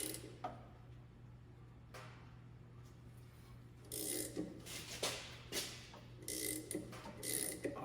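Repeated ratcheting clicks from a harmonic balancer puller being tightened on a truck crankshaft with a broken timing gear, quiet bursts of mechanical clicking in a shop with a steady low hum underneath.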